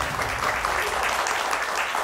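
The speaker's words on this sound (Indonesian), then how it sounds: "Boleh tepuk tangannya yang lebih semangat lagi dari UI dan juga Budi Luhur" Studio audience of university students at a televised political debate show clapping hard, a loud, dense, unbroken burst of applause throughout.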